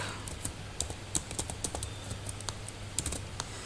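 Fingers tap out code on a computer keyboard in quick, uneven bursts of crisp clicks, close and clear, with brief pauses between runs of keystrokes.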